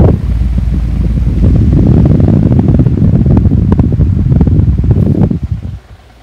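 A 2010 Connect It 16-inch pedestal fan with its front grill removed runs on low with stiff bearings, giving a steady loud whirring drone with a shaky, rattling texture that tapers off near the end.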